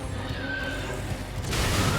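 Horse neighing in the video game Elden Ring, a whinny rising over steady game ambience with no talking, followed by a louder noisy burst toward the end.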